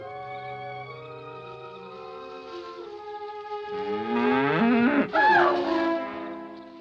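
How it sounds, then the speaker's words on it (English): A cow lowing at night in an eerie rural setting: a long, drawn-out moo swelling louder toward the end with a rough, wavering second call, over a steady background drone, no voices. "just a cow."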